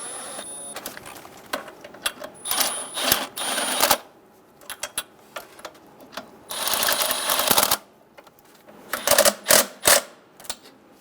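A ratchet runs in bursts of rapid clicking as the throttle body bolts on a 2003-2008 Honda Pilot are snugged down, with short pauses and metallic handling noises between runs, close up and with no talking.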